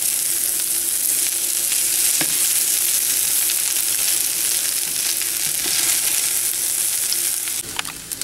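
A one-pot rice dinner fries loudly in a pot, a dense continuous sizzle with occasional scraping stirs and a few clatters at the end.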